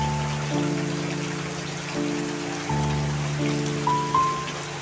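Steady rain falls during a stormy autumn day in central Vietnam, a continuous broadband hiss with no voices, while low sustained tones from a cooking fire setting run underneath.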